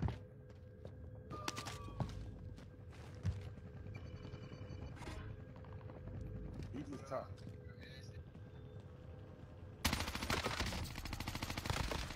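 Video-game gunfire: scattered single shots, then a loud rapid burst near the end, under game ambience while a streamer talks.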